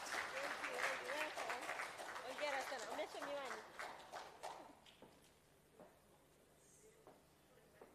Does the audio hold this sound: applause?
yes